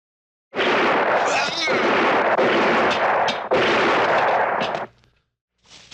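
Loud, rapid gunfire fills several seconds with blasts and sharp cracks, then cuts out briefly before another burst begins.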